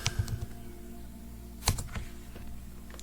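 Typing on a computer keyboard to search in Canva, a few quick clicky keystrokes at the start and a couple more midway, close and fairly soft, no speech.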